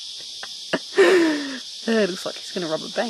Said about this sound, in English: As you can hear, it's summer, cicadas are chirping